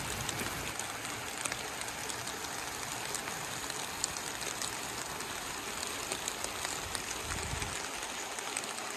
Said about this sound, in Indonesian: karena hujan tidak kunjung berhenti